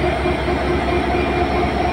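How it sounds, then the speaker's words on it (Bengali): A train pulls slowly out of a station in Tangail, Bangladesh, bound for Rajshahi, its rolling rumble and rail noise loud and close in a steady continuous drone. "এই ট্রেনটি ধীর গতিতে মার্চ করতেছে।"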